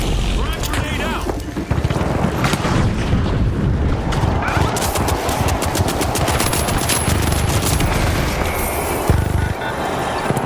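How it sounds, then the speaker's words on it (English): Frag grenade blast in the shooter game The Finals, a loud booming explosion amid continuous heavy gunfire and battle noise, with voices speaking over the chaos. "Frag grenade out."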